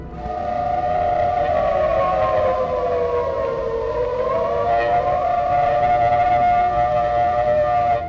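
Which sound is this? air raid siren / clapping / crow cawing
air raid siren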